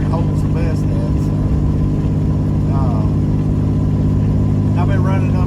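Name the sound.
B model truck engine running at high RPM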